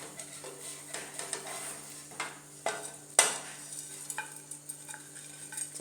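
A butter paratha is lifted off a hot pan amid faint, soft sizzling, with scraping and light metallic clinks, one sharper clack near the middle, all close and quiet without talk.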